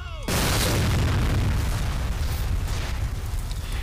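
An explosion in the video game F.E.A.R. bursts in sharply, then leaves a loud, rumbling roar that slowly fades.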